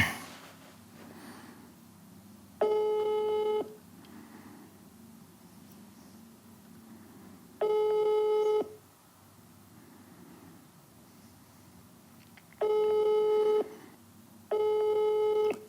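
Telephone ringback tone heard while phoning a company: four separate electronic ring pulses, each about a second long, sound clearly at even intervals over quiet room background, with no speech.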